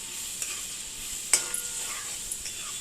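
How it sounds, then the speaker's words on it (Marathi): Vermicelli sautéed in oil and ghee after onion, tomato and chilli, for a savoury upma: a steady soft sizzle runs throughout, broken by a few light clinks and one sharper scrape of stirring near the middle. "तेल आणि तुपावर असं छानपैकी परतून घेतलं आहे"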